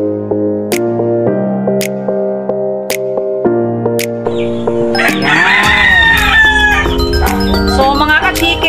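A chicken sick with coryza gives a run of regular sharp clucks, then a rooster crows loudly and close, its long rising and falling call filling the second half.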